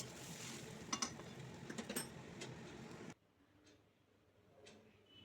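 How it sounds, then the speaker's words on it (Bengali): Rice grains dry-fried and stirred in a pan, with light ticking scrapes and faint sizzling for about three seconds before the sound drops away to near quiet with a couple of soft clicks. "ভালো করে চালটাকে ভেজে নিতে হবে।"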